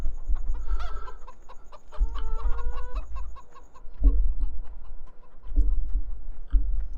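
Game chickens cluck in quick rhythmic runs and squawks, joined by low thuds and a faint regular ticking near the start; fairly close and clear with no talking.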